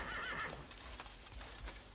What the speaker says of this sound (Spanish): se oyen los relinchos de sus caballos